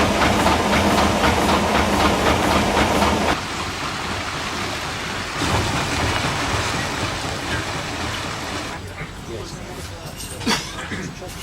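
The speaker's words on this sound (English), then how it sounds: "the engine runs on biodiesel" A heritage train engine running on biodiesel, formerly coal-fired, gives a loud steady rumble with hissing, then settles to a quieter running sound with talk over it.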